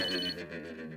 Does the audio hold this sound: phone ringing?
yes